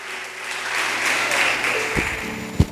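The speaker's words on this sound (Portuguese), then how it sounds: "Dê um aplauso a Jesus." Congregation clapping during a church service, a broad wash of applause that swells and holds, with a couple of sharper thuds near the end.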